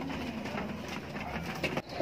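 Several pigeons coo in a low, continuous murmur, with soft rustling and shuffling noises mixed in close by.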